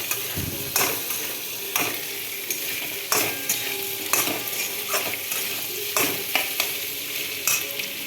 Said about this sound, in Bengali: পেঁয়াজ আর ক্যাপসিকাম দিয়ে হাই ফ্লেম দিয়ে একটু লাল লাল করে